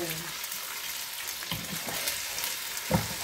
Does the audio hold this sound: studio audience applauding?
no